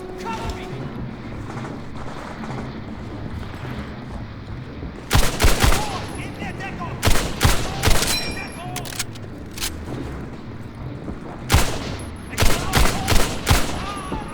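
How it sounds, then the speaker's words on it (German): Gunfire in Medal of Honor Airborne, aimed at the player during a fight for a town hall, comes in sharp bursts of shots and clattering volleys, loud and close, over a low battle ambience with someone talking. "Und blöderweise schießen die gerade auf mich, gell?"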